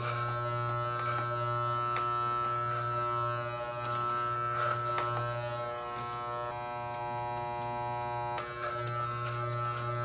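Electric hair clippers fitted with a number 5 guard buzz continuously and fairly close while cutting hair in a taper fade, a steady humming drone with slight variations as the blades move through the hair.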